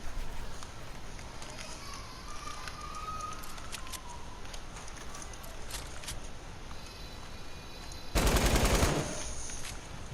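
Light machine gun fire in a first-person shooter game, with rapid bursts and scattered shots under ambient game noise, ending in a loud dense burst near the end.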